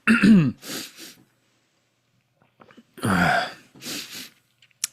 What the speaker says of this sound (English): bad cough